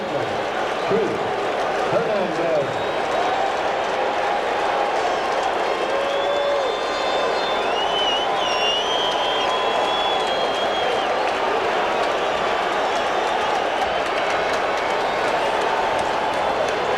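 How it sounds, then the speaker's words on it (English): A packed baseball stadium crowd at Game 2 of the 1986 World Series between the Mets and Red Sox keeps up a continuous roar of cheering and clapping, loud and steady beneath a commentator's voice. "The crowd is showing life."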